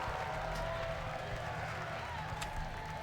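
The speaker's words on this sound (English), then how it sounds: "What's that cheering for? That was random." A distant crowd cheers and claps in World of Warcraft, a faint, steady roar of voices and applause lasting a few seconds under a low hum of game sound.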